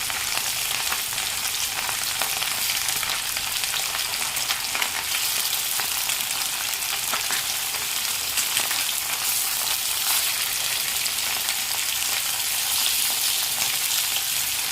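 Small fish frying in hot oil at home, a bright continuous crackling sizzle, loud and close, unbroken for the whole stretch.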